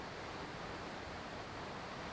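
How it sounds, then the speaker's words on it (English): A waterfall roars in the distance beside railway tracks on an overnight bikepacking trip, a steady broadband rush of falling water with no breaks, alone and evenly loud throughout. "you can hear the waterfall in the background, which is quite nice"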